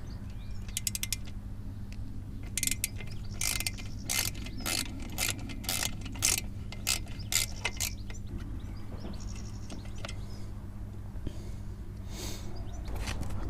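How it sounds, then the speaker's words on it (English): A ratchet with a 5mm bit works a bolt loose on a Honda CB500X motorcycle, giving bursts of sharp clicking and clacking over a low steady hum, close and fairly loud, with short pauses between runs. "I've got the 5mm bit on the ratchet here."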